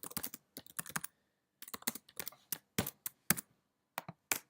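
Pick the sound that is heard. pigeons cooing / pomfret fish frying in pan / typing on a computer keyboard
typing on a computer keyboard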